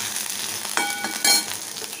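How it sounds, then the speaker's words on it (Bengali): Spice paste with cumin and turmeric frying in a pan, a steady bright sizzle throughout with a couple of sharper bursts as it is stirred, close and alone. "একটু জিরে করে দেবো, হলুদ আগেই দিয়ে দিয়েছি দেখতেই পাচ্ছ, এবার মশলাটা কষি"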